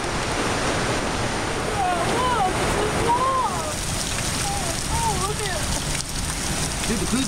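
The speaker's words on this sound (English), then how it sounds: "Whoa, waterfall." Waterfall pouring in a steady broadband roar over slippery rocks, constant and close, with birdsong chirping over the rushing water.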